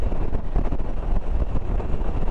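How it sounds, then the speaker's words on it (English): Wind roars steadily against a Puig touring windscreen on a Kawasaki Versys-X 300 motorcycle while riding, a loud, buffeting rush with low rumble and no talk. "you wouldn't believe the wind pressure"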